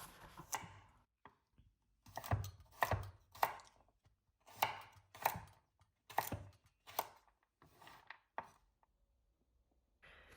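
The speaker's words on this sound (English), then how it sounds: "After removing from the shell, cut them into small pieces." Knife chopping pieces of coconut removed from the shell on a board: a steady series of close, sharp, fairly quiet chops in irregular clusters with brief pauses between strokes.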